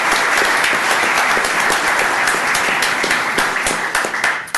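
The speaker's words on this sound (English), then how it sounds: "Let's give them a round of applause." Steady audience applause at a county commissioners court meeting, many hands clapping together at an even level for several seconds before it starts to thin out at the end.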